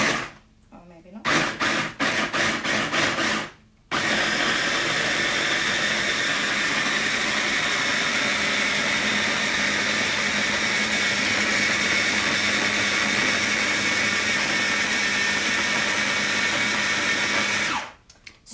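A blender whirs loudly, starting with short pulsed bursts, then running continuously for over ten seconds before switching off.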